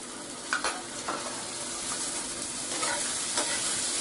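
Soaked chana dal and turmeric are stirred into spices frying in a pan. A close, continuous sizzle runs under a few spoon scrapes and clinks.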